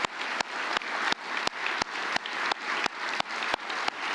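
An audience at an awards dinner for drug-free community coalitions claps in a steady, dense wash of applause, with sharp rhythmic hits recurring about every third of a second throughout.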